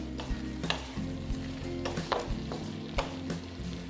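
Pointed gourd and soybean chunks sizzle in a hot pan as they are stirred and sautéed, with a constant frying hiss broken by regular scraping knocks of a spoon.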